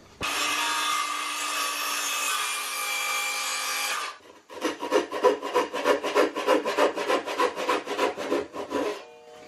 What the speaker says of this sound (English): I'm using the skill saw and then the Japanese pull saw to get